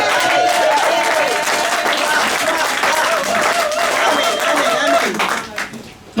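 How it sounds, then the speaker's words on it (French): Church congregation at a convention service applauding, a dense wash of clapping from many hands that swells, holds, and then fades out toward the end, with voices mixed in. "Mais il mérite qu'on l'acclame quand même de temps en temps."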